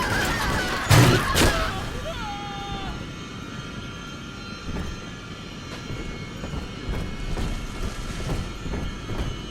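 A train starts moving in BioShock 2, with a loud clanking burst at the outset, then a steady rumbling run and faint rhythmic clacks that carry on to the end.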